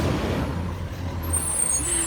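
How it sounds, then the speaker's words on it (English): A truck runs alongside on a road, giving a steady loud engine rumble with an air-brake hiss throughout, close by and unbroken, with no talk. "this truck is beside me this whole way"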